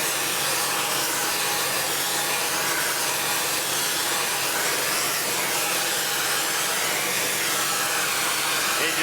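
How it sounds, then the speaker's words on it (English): A brazing torch flame roars steadily for the whole stretch, a loud, unbroken broadband rush with no pauses and no voices. "Just back the torch away a little bit."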